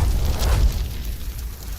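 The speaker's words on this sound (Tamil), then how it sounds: "அவன் தன் பையில் இருந்து வேகமாக ஒரு வெடியை எடுத்து அதை பக்கத்தில் இருந்த தீப்பந்தத்தில் பற்ற வைத்து அதை ஜோதியை நோக்கி எறிந்தான்" A firecracker, lit from a burning torch and thrown, explodes as one loud, deep boom with a rumbling tail that fades slowly over almost two seconds. No voices.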